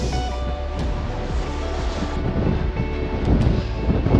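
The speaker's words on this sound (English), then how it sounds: "Super windy out here." Strong coastal wind buffets the microphone at a roadside stop along the Pacific Coast Highway on a Harley-Davidson trip, a loud, steady rushing roar with gusty low-end thumps throughout.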